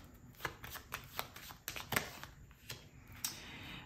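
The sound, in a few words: shuffling tarot cards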